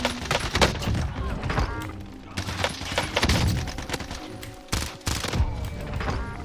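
Gunfire in the video game Call of Duty Warzone, with rapid bursts of automatic shots and sharp impacts in irregular clusters, loud and close.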